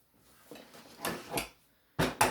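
A kitchen drawer handled up close: soft rattling, then a couple of sharp sliding knocks and two loud bumps near the end, with no voices.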